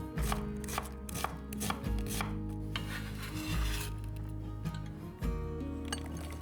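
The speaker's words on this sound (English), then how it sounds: "Now we can easily chop them and end up with nice uniform pieces." Onion chopped into uniform pieces with a knife on a cutting board for a Hungarian paprikash, a close, steady run of sharp rhythmic knocks and clicks without any speech.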